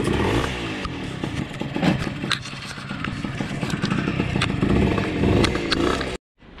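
Retuned Honda Dio scooter moped with a street race exhaust, engine running close and loud with buzzing revs, clattering and scraping, cutting out abruptly at the end.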